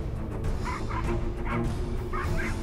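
A dog angered by a monkey stealing its food barks and yips in several sharp bursts, close and fairly loud over a constant background din.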